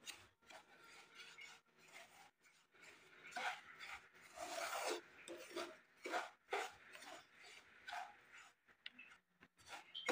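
Semolina (suji) is stirred in a pan over a low flame while frying for barfi, with a close, steady gritty rasping and scraping of the spoon through the dry grains in uneven strokes.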